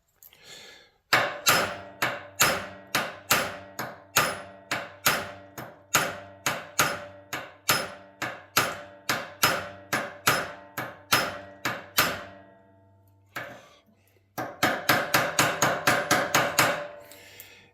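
Close, loud hammer taps striking a Royal 5 watch band to stretch its links, a steady run of about forty sharp metallic hits in even rhythm, a brief pause, then a quicker burst of taps.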